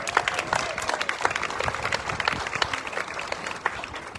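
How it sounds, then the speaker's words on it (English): At the Jackson Apple Festival's inaugural Red Coat Club presentation, an audience gives a hearty round of applause, with crisp, close claps mixed into steady crowd clapping and a faint murmur of voices. "give Ed another big round of applause"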